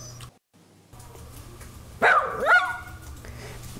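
A comical puppy bark sound effect: two quick, loud yapping barks close together, the second with a rising squeaky tone, over a low steady background hum.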